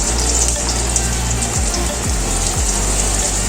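Potato, ridge gourd and other vegetables hitting hot mustard oil tempered with nigella seeds, a loud, dense, continuous sizzle with a few low clunks as pieces drop into the pan.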